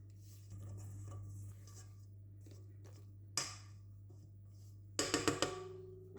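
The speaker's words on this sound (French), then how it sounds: "je donne un petit coup de maryse autour" A silicone spatula scrapes around a mixing bowl of langue de chat biscuit batter, giving a few soft strokes and then a quick burst of sharper scraping clatter against the bowl. The sounds come close up over a steady low hum, with no talk.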